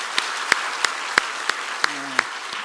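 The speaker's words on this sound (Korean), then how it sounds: "한번 박수해 주시면 좋겠어요" Sparse claps ring out in a church during a Korean worship service, a handful of separate sharp hand claps spaced across a couple of seconds over a quiet room tone, with a low sustained note sounding briefly near the end.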